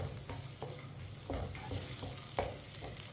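Vermicelli roasts in a pan over low heat for sweet seviyan while a spoon stirs it, soft continuous frying hiss with occasional quiet scrapes, close and fairly faint.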